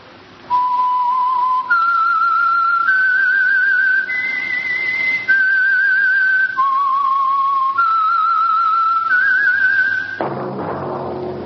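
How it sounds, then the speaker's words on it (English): A person whistles a slow tune, clear sustained notes stepping up and down in pitch, loud and alone, ending abruptly into a brief noise. "That whistle is your signal"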